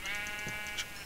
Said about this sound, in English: oh, here's another sheep.